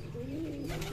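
A Siraji pigeon kept by a village breeder in Magura gives a short, close, rolling coo that is clear and fairly loud, with no talking.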